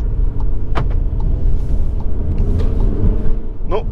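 A SEAT Ateca with a two-litre diesel engine drives along, its steady low engine rumble and road noise filling the cabin, with a few brief sharp creaks and clicks rising over the drone.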